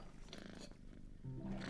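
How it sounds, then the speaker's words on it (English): A cat in a video game gives a low, rough roar that swells and rumbles over under two seconds, fairly faint, with a brief growl rising near the end. "I hear a cat."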